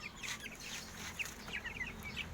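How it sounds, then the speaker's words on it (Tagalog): Two-week-old broiler chicks chirping and peeping in a flock, faint high calls over a steady background hum. "Ito na ulit yung aking palimang batch ng mga sisyo na broiler."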